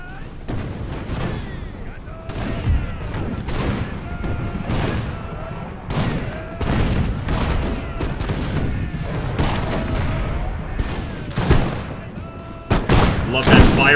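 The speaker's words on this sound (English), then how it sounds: "Love that fire by rank." Musket volleys fired by rank in the Imperial Splendour battle game, loud repeated crackling bursts of gunfire rolling in rhythmic waves with booming reports, close and dense, continuing throughout.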